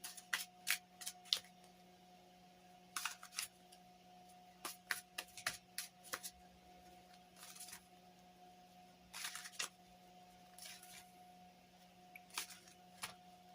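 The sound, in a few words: drawing a card from the Good Fortune Tarot deck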